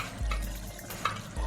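A spoon stirring noodle soup with fish and beef meatballs in a pot: soft liquid swishing with a few light scrapes and clinks against the pot, close and quiet, no voices.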